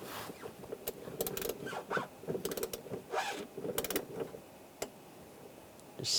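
Drain plug being closed on the radiator of a 2011-2018 Ram 1500, heard as a string of close creaking, ratcheting turns and small mechanical clicks in bursts, with no talking.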